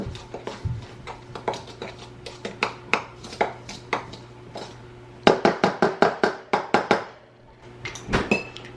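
A spoon clinks and scrapes rhythmically against a bowl while stirring a batter of sugar, salt and baking powder, the sharp taps coming in quick bursts, close and clear, with short pauses between strokes.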